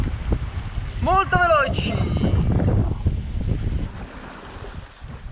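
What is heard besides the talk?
wind and waves while sailing a boat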